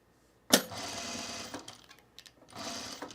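A domestic sewing machine stitches through loose linen, starting with a sharp click and then running in a steady whirring burst that pauses briefly and resumes, close and clear with no talking.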